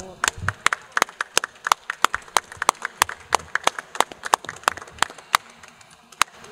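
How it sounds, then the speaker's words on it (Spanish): Applause for architect Hugo González at an event on Ecuador's coast: distinct, fairly sparse handclaps from a small group, irregular sharp slaps close by, with light background voices. "para quien pido un fuerte aplauso, por favor."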